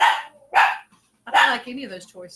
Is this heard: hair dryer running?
no